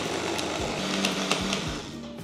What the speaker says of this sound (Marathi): आणि हे छान पेस्ट तयार करूयात, ब्लेंड करूयात